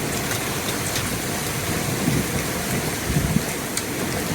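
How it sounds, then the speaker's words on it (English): Heavy rain pours down steadily in Minneapolis, a dense, even hiss with a few brief, sharper taps from light hail. There are no voices. "There's still a little bit of hail coming down."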